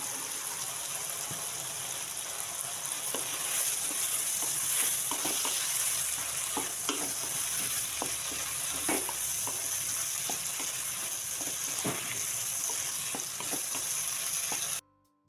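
Soaked and squeezed bitter gourd sizzles steadily in a hot pan, frying with a constant hiss and occasional scraping stirs and clicks from the utensil, close and continuous without talk, then stopping abruptly at the end.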